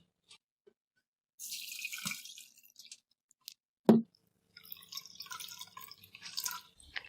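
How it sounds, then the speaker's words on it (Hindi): Water drains through a kitchen strainer in short splashing bursts and trickles separated by quiet gaps, with one sharp knock midway, close by with no talking. "स्ट्रेनर यानी छन्नी की मदद से हम ये पानी निकाल लेंगे।"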